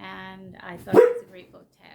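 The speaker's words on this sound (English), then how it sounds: "I am sorry that my dog just barked." A single sharp dog bark cuts in near the middle of a brief stretch of speech, loud and close.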